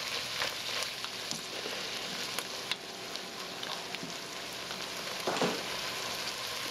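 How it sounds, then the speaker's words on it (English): Onion and garlic for bouillabaisse sauté in a pan with a soft, even sizzle, fairly quiet and steady, with a few light stirring scrapes and no talking. "we're going to just saute the onion so it sweats out"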